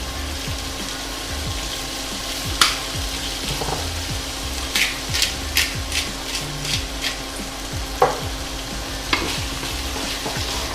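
Salmon pieces and shallots fry in a pan with a steady, close sizzle and crackle, while a utensil stirs them and knocks lightly against the pan now and then.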